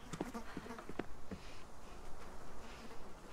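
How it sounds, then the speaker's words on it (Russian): Flies buzzing faintly in the video game Through the Woods, heard as a low hum with a few brief clicks and taps near the start, then settling into a quiet, steady drone. "Мухи?"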